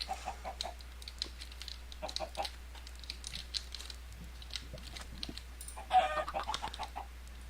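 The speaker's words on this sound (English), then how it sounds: "God, I hate chickens." Chickens in a Minecraft magic modpack cluck in short scattered bursts over a low steady hum, fairly faint and intermittent, with one slightly louder squawk near the end.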